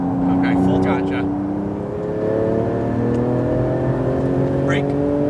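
A Porsche GT2 RS accelerating at full throttle on a race track, its engine note climbing steadily in pitch as heard from inside the car, with voices talking over it.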